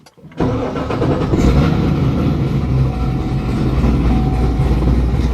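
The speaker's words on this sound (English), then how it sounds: "let's go ahead and start the car" A supercharged Corvette engine cranks and catches, roaring up loudly and then settling into a strong, steady rumbling idle close by.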